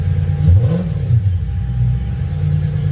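A car engine idles smoothly and evenly just after a fuel leak repair, a steady low rumble close to the microphone with a slight swell in revs near the start, and no voices over it.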